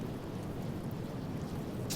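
Rain conjured by a spell in the Divinity: Original Sin video game, a steady soft hiss of falling water with a faint rumble beneath and a brief brighter splash at the end.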